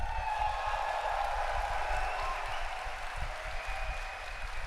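A Gamescom convention crowd applauds in a steady, dense wash of clapping that fills the space without a break, loud and close.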